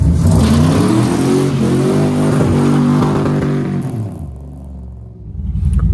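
A turbocharged GTO revs hard for a burnout, its loud, close engine roaring and climbing in pitch, then dropping away before a final surge.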